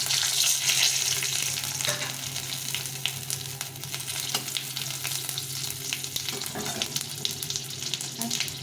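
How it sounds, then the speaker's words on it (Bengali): Red chillies sizzling in hot oil for a Bengali tempering before a rohu fish curry, a loud dense crackle filling the clip with faint stirring scrapes and no voices. "এই লঙ্কাটা আজকে আমি একটু বেশি করে ফোড়নে দেবো"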